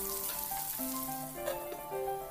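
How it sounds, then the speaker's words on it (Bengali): Bitter gourd strips fry in hot oil for a shukto, giving a steady, close sizzle that runs throughout with a faint tonal hum beneath, and no talking. "এবার উচ্ছেগুলোকে আমি খুব ভালো করে ভেজে নেব"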